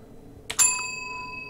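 In the horror game Room 776, a bell is struck once after a brief knock, giving a bright metallic ding whose clear ringing tone lingers and slowly fades in a quiet room.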